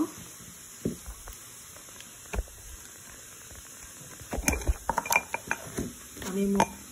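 Washed glass jars have their lids opened in a kitchen, with scattered clinks, taps and short scraping knocks of glass and lids, growing busier toward the end.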